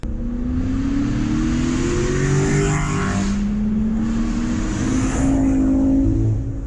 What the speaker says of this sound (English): Their engines sound incredible.